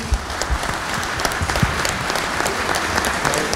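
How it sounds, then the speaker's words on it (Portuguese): Audience at an insurance technology and innovation conference claps for the speakers, a dense, steady burst of applause filling the short clip at even loudness. "eu queria, para encerrar aqui, pedir uma salva de palmas para os nossos palestrantes"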